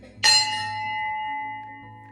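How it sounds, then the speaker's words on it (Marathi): A temple bell at a Shri Krishna shrine in a Konkan village is struck once, a bright metallic clang that rings on and slowly fades over a low background hum. "आता पण एक घंटा आहे"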